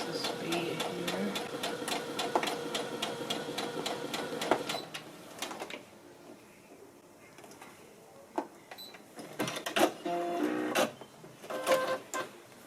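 A Baby Lock Brilliant sewing machine runs with a fast, even mechanical whir close by, then stops and is followed by clicks and handling noises, with a voice talking partway through.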